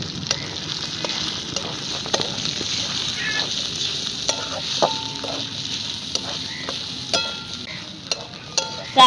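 Freshly grated coconut is sautéed in a pan for fasting thalipeeth, giving a continuous light sizzle broken by sharp scraping strokes and clinks of a spatula, near and fairly loud.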